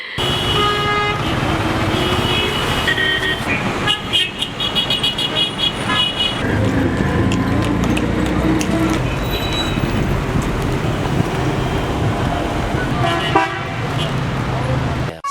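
Busy road traffic south of Cairo, Egypt, with repeated car and truck horns honking near and far over engine noise, some long blasts and quick toots in a dense, continuous din.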